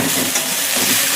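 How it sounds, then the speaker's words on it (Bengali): Spice masala sizzles and crackles steadily in a pan while being fried and stirred for a dalia khichuri, a dense close hiss with faint scraping and no voices. "আগে এটা আর একটু ভেজে নিই"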